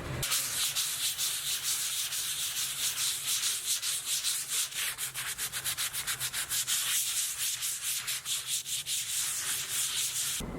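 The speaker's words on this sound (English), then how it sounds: "Okay, now it's time to sand." A wooden desk is sanded by hand, making a loud, close, rhythmic scratching that rubs back and forth without pause for about ten seconds.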